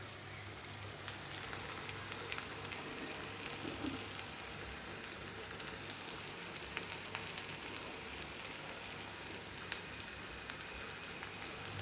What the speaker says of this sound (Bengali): আগে আগে লবণটা দিয়ে দিই, তাহলে পেঁয়াজটা তাড়াতাড়ি ভাজা হয়ে যাবে